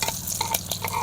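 Onion and garlic are stirred in a frying pan with a utensil, giving soft scraping clinks over a light sizzle, close and fairly quiet, with no voices.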